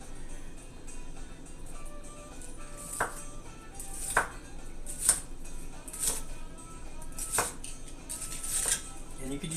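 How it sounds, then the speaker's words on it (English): A sharp knife cuts the ends off stocky vegetable stalks, giving about seven crisp, separate chops spread irregularly over a quiet kitchen background with faint clatter. "I'm just going to cut the ends off"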